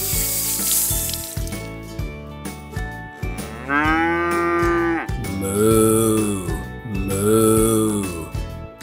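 Cow mooing for a children's picture-book read-aloud about a very busy spider: a few long, drawn-out moos, loud and close, following a brief musical passage.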